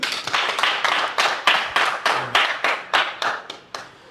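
A church congregation claps in a steady, fast rhythm of about a dozen loud, close hand claps, with no voices over them.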